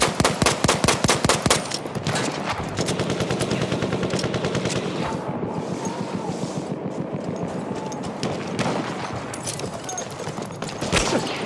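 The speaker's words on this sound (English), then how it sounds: "Look out! Machine gun!" Machine guns fire in Battlefield 1 multiplayer Domination, with rapid repeated bursts of gunfire, loud and close at the start and end, and a steady rattle of shots in between.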